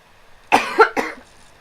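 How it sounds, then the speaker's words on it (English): A short, close cough of two or three quick harsh bursts in a row. "I've got an awful cough."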